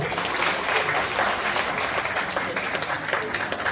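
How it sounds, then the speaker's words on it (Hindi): Sustained applause from an audience at a Hindi-language religious gathering, a dense, steady wash of many hands clapping at once, fairly loud and continuous throughout. "बहुत बहुत साधुवाद, तालियां हो जाएगी सारे लोग।"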